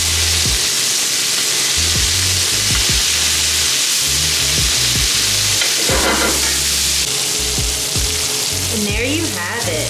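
Dry sea scallops sear in a hot pan with brown butter, giving a steady, loud sizzle that fills the whole stretch, with occasional clatters as they are swirled and flipped.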